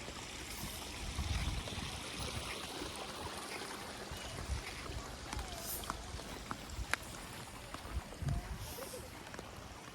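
A river flowing outdoors in Bukidnon, a steady watery rush and trickle with scattered splashes and drips, mixed with faint background voices.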